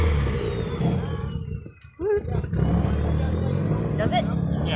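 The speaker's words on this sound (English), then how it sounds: "Here comes that Datsun. Listen for that turbo noise." A Datsun with a turbo engine pulls in at a cars-and-coffee meet, its engine rumbling close by with a faint whistling whine rising and falling over it, while people chat nearby.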